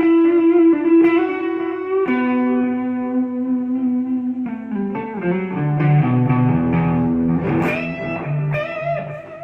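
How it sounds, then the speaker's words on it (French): Electric guitar played through a Strymon Capistan tape-echo delay pedal, sustained chords and single notes ringing out with repeating echoes and a slight distorted edge, loud and alone with no talking. "Et on finit avec une Strymon Capistan, donc le delay."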